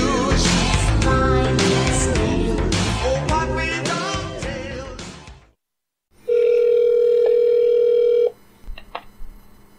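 A telephone call plays out as a steady electronic ringback tone for a couple of seconds before being forwarded to voicemail. It comes after a burst of loud music and a short silence, with faint clicks at the end.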